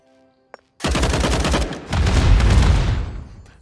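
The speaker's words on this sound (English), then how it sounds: "a massive explosion tears through the silence" A massive explosion in the video game Pathway, a sudden loud roaring blast that rumbles and crackles for nearly three seconds with a second surge midway, heard alone.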